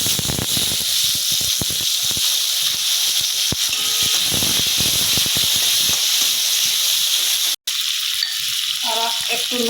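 Dried red chilli, bay leaf and chopped onion sizzle and crackle in hot oil, a loud, constant frying hiss with occasional stirring clatter, close up and with no talk.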